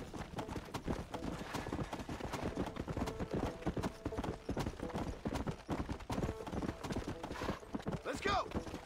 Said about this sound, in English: That was a live horse.